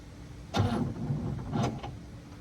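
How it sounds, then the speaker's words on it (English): Two brief bursts of a 1959 Cadillac barn-find engine turning over, each lasting about a quarter second, quiet and close, separated by a short pause. "Rotate the engine."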